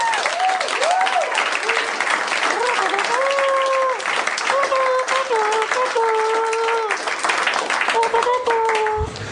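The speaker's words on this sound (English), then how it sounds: "Yeah, applause." An audience breaks into sustained applause at a live comedy podcast recording, dense and even throughout, with voices speaking over the clapping.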